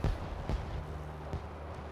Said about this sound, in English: Oh, you can hear the fireworks.